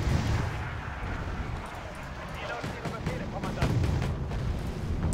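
Artillery and gunfire in the real-time strategy video game Wargame Red Dragon, in a zombie defence scenario: dense, continuous rumbling blasts and scattered shots that keep up loudly throughout, with a voice talking over them.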